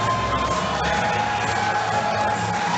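A steady roar from a packed crowd at an amateur MMA event fills the air as a fighter walks into the cage, loud and continuous with shouts and cheers blended together.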